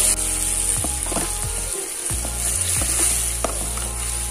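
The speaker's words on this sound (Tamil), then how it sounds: "வெங்காயம் நல்லா ஓரளவு வதங்கிடுச்சு" Onions sizzle and fry steadily in a hot pan while seafood panthal is cooked, with a continuous crackling hiss broken by intermittent clinks and scrapes of stirring; no voices are heard.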